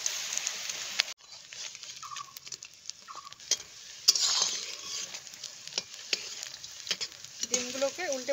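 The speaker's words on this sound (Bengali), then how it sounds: "এবার ডিমের পিসগুলো বেটারে ডিপ করে গরম তেলে ভেজে নিব।" Battered egg pieces fry in hot oil in a pan, giving a faint crackling sizzle with scattered pops and occasional stirring clinks, plus a few brief chirping sounds in the background.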